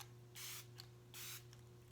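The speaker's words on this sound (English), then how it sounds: "So what you're going to do is as you exhale, then you're going to spray." Two short bursts of Smashbox Primer Water facial mist sprayed from a pump bottle, each a soft airy hiss about a quarter second long, close and quiet against a steady low hum.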